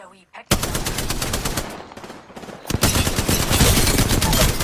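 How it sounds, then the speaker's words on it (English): Automatic weapon fire rattles loudly in an Apex Legends match, a sustained burst of rapid shots, a brief lull, then another dense stream of gunfire that continues to the end, with no speech over it. "Keep shooting at him."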